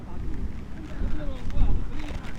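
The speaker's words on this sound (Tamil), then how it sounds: "எப்படி காற்றடிக்குது பாருங்களேன்." Strong wind buffets the microphone on a motorcycle ride in Kodaikanal, a low, continuous rumble gusting stronger toward the end, with a voice talking faintly underneath.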